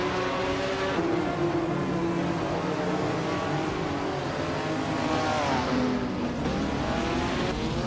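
Group C2 race cars lapping at Montmelo in a racing video game, a loud continuous engine roar with several cars revving, shifting gears and sweeping past, and no voices.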